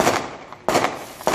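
Three sharp, loud bangs in quick succession, each a broadband burst with a short decay, sounding like gunshots fired nearby.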